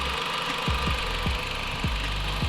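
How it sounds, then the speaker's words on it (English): A 2016 Dodge Journey engine idles steadily with a constant fan-like whoosh from the radiator fan, broken by a few soft periodic thumps roughly every half second. "as you can see, the fan just turned on"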